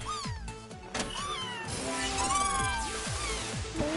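Cat meowing in the VR game The Playroom, several rising meows repeating over a busy backdrop of game music and clattering effects, fairly close and clear.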